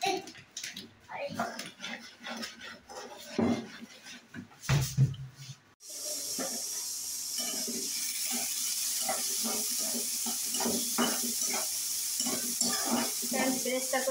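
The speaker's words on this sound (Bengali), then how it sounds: "বেরেস্তা করে নেওয়ার জন্য পেঁয়াজ দিয়েছি, আর একটু তেল দিব।" Onions fry in oil for birista with a steady, broad sizzle that builds after a stirred, clattery start, close and continuous for several seconds, with brief talk near the beginning.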